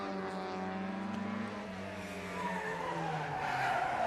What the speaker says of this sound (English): very keen entry there in the Mini Clubman, 1275cc, that our iconic little A-Series engine